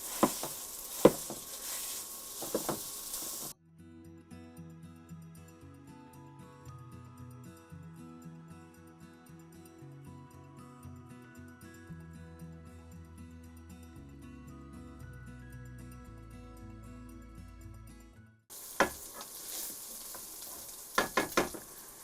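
Breakfast sausage browns in a pan with a close, steady sizzle at the start and again at the end, while a stretch of melodic music fills the long middle section.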